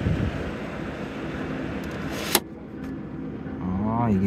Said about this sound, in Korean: 바람 나오는 거 들리시죠?